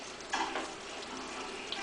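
A peanut brittle candy mixture bubbles at a rolling boil, a faint, steady, crackling simmer with soft pops, heard alone.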